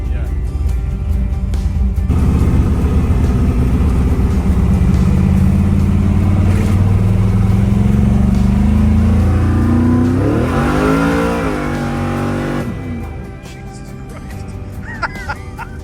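An old '55 car engine revs hard and loud, climbing through gears with rising harmonic sweeps before the pitch drops away near the end, with voices talking over the steady roar.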